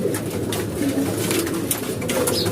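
Pigeons suffering from salmonella coo steadily and close by, their soft, repeated calls layered over a constant low hum, with no voices present.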